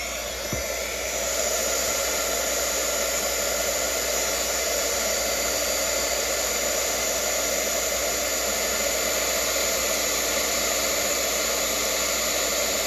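An embossing heat tool blows steadily over an image stamped in Versamark and covered in clear embossing powder, a constant close whirring hiss that runs unbroken throughout.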